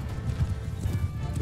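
Horse hooves clop rapidly for a brief moment, with a faint whinny mixed in, from a horse in combat in the video game Mount & Blade II: Bannerlord.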